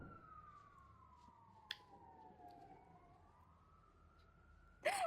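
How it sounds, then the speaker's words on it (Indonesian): A distant ambulance siren wails, its pitch sliding slowly down and then back up, faint over a quiet background with a couple of brief clicks. "suara ambulan."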